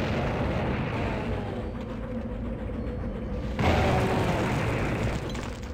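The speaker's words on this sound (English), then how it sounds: "Explosions in this game have more weight than other build engine games" Heavy, rumbling explosions in the Build engine shooter Blood, dense sustained booms with a fresh louder blast partway through, no talk.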